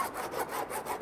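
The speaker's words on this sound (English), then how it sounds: "I will take this over to the bandsaw" A bandsaw cuts wood close to a marked line while shaping a Greene & Greene style rafter tail for a table, giving a steady, close rasping scrape that swells and eases with the feed across the short cut.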